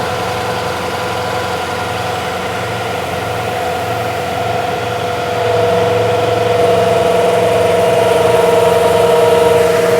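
New Holland TL-90 turbocharged diesel tractor engine running at steady idle, a loud close rumbling drone with a throbbing low pulse that shifts and grows slightly heavier midway, no talk.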